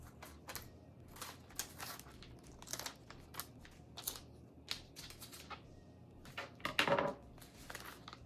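Infusible ink sheet being cut for a graduation garden flag, heard as a series of crisp snips and crinkles close up, with a louder crunch near the end and no talking.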